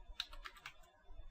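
Quick, soft keystrokes tap on a computer keyboard as a command is typed, a short burst of close clicks with small gaps, heard alone and fairly quiet.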